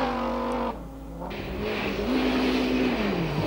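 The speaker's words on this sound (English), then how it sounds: "Here comes the Jolly Club Lancia" A Jolly Club Lancia rally car, heavier than the works cars, on a 1988 Swedish rally stage, its engine note dropping and then climbing again as it draws closer, loud and steady.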